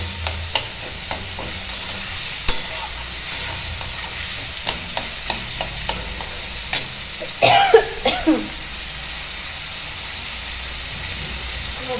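Figs frying in a pan, a low sizzle beneath a regular series of sharp spoon taps and scrapes against the pan, with a brief rougher burst of clatter midway, no speech.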